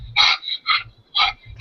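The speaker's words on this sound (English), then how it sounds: "I can totally hear your dog on your mic. He's really loud." A dog barks loudly right into a microphone, giving four sharp, close barks in a quick, uneven rhythm with short silences between them.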